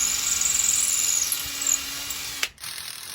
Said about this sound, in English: Now I'm gonna pre-drill the metal.